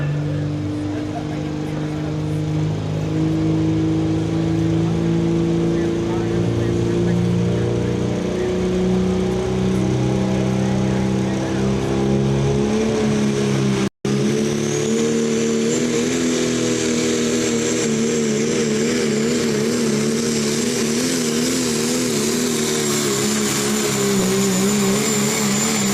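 Pulling truck named Struck by Lightning roaring at the Fairfield County Fair truck pull, a loud sustained engine drone that wavers and climbs in pitch over a long run, with an announcer talking over it.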